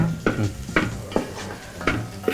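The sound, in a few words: stirring beef frying in a pan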